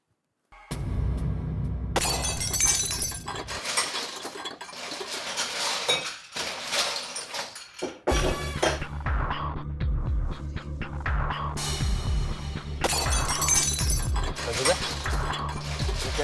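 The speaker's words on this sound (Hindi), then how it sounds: "किचन से बर्तन गिरने की आवाज आ रही है।" Metal utensils and dishes clattering and crashing in a home kitchen, a loud sustained jumble of shattering and clinking with a brief pause midway, over a steady low hum.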